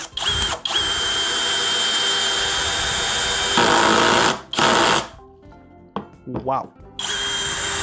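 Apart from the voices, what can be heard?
DEKOTOOLS 20V brushless drill driving a long screw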